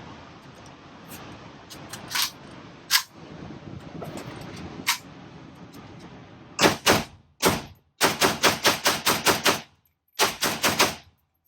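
A Kalashnikov USA Viskov 7.62x39mm rifle fires outdoors: a few sharp reports, then a rapid string of loud, evenly spaced shots and a final pair, with quieter handling noise before them.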